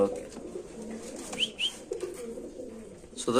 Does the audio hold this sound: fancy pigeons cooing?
yes